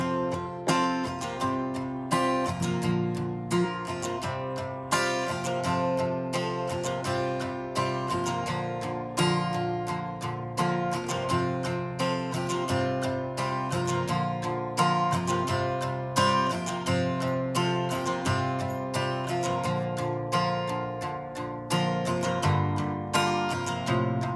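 Steady rhythmic strumming of the chorus chord progression of a song on guitar, dense and continuous with regular strokes throughout.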